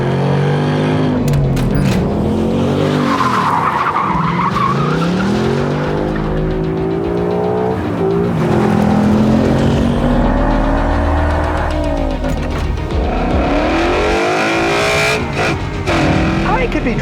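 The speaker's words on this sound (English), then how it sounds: "I'm gonna make it to work, but I'm gonna do burnouts the whole" A Ford Mustang GT does burnouts, tires squealing in long wavering screeches over a loud, revving V8 rumble, with repeated swells and several seconds of continuous noise.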